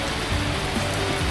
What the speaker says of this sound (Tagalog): Ganito pala feeling na maligo sa ulan sa bundok.